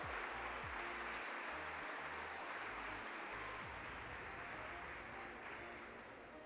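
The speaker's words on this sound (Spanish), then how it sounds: "Demos la bienvenida con un fuerte aplauso, por favor" Audience applause at a conference in Chihuahua, a dense sustained clapping from a large crowd that fades slightly toward the end.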